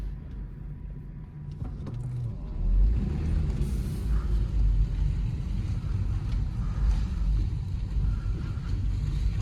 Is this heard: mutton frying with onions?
no